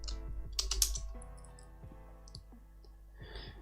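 Typing on a computer keyboard, with a quick run of close key clicks and taps, a brief burst of clatter, then scattered keystrokes over a quiet background hum.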